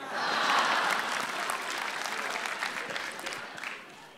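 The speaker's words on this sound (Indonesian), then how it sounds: "Tepuk tangan untuk Raditya Daki" Audience applause at a stand-up comedy roast show, a dense burst of clapping that swells quickly, then holds steady and slowly fades over several seconds, filling the room.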